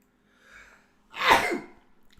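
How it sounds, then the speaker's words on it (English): A short inhale followed by one loud, explosive sneeze close to the microphone, then quiet. "I just nearly sneezed my tooth out"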